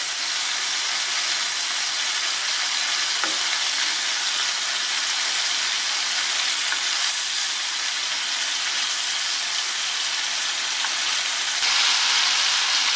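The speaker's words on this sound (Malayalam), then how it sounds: "അതുപോലെ തന്നെ നമുക്ക് ഈ സൈഡ് 1 മിനിറ്റ് ഫ്രൈ ചെയ്തെടുക്കാം." Prawns frying in hot oil in a pan for a Kerala prawn dish, giving a loud, steady, unbroken sizzle that runs evenly throughout, close up, with no talk.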